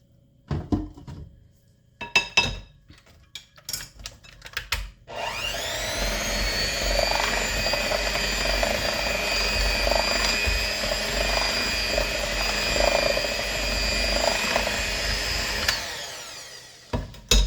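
An electric mixer beating vanilla into rainbow cake batter: after a few clatters and knocks, the motor starts with a rising whine and runs as a steady, loud hum for about ten seconds before winding down.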